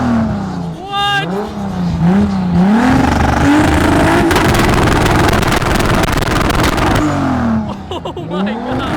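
A straight-piped Lamborghini Aventador SVJ revs hard nearby, its engine rising through several throttle blips into a long, very loud sustained scream before dropping back, with voices shouting around it at the start and end.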